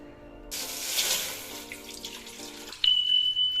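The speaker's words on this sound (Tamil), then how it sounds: "நான் இந்த பாத்திரத்தில் ஊற்றி நல்லா காய்ச்சி எடுத்துக்கிறேன்" Half a liter of milk is poured into a cooking pot, giving a close, splashy liquid rush that starts suddenly, fades over a couple of seconds and is followed by a faint tone.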